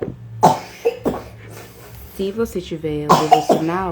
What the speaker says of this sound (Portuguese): De vez em quando vocês vão ouvir uma tossinha no final,